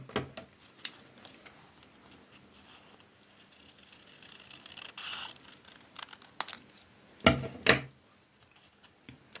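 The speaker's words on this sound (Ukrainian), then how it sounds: "Тепер так само відрізаємо від серединки кружечка до куточка." Scissors cut paper for a spring flower appliqué, making faint snips and rustles with a couple of louder crisp cuts near the end, heard close and alone.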